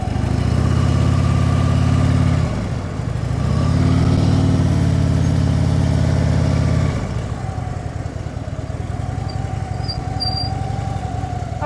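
A motorcycle engine runs at low speed during a slow U-turn drill with the clutch in the friction zone, a loud, close, steady drone that swells slightly, dips, rises again, then settles to a lower idle-like rumble.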